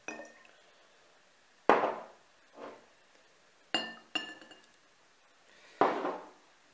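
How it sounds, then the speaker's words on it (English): Sharp glass clinks, about five of them spaced irregularly, each ringing briefly, as a drink of water is topped up, close and clear with no talk. "Let me just top that up a little bit."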